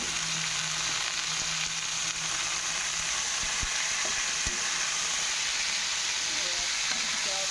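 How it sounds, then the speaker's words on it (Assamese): Dhekia fern and soaked chickpeas fry in a generous amount of oil, giving a steady loud sizzle and hiss throughout, with a few faint clicks of stirring. "আমি কিন্তু ঢেকীয়া ভাজিটো এনেকৈ বুট দি খাওঁ। আৰু তেলটো অকণমান সৰহকৈ দিওঁ।"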